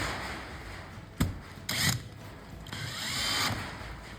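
A power drill whirs in short bursts as it drives self-drilling, self-tapping screws, with brief pauses and gritty grinding between spins, close by.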